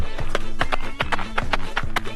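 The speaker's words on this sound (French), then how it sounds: "Ouais, du cheval." Horse hooves clip-clop in a steady, even rhythm of sharp distinct knocks, close and clear against a low background hum.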